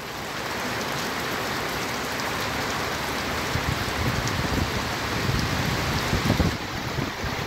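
Steady rain pours down on pigeons left out in the open, a dense continuous hiss and patter that swells slightly toward the end.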